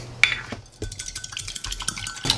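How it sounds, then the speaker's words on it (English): Egg being cracked and whisked for chaffles, a sharp crack followed by rapid light tapping and scraping of a utensil in a bowl, close and busy throughout. "I am going to crack another egg in here and whisk it up also"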